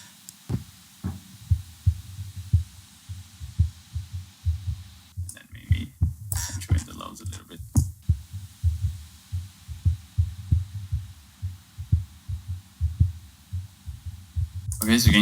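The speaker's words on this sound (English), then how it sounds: "So we're just gonna low pass everything." Kick drum pattern processed with a low-pass filter, leaving deep muffled sub-bass thumps in a steady rhythm, briefly broken by clicks and noise midway, with a rising burst at the end.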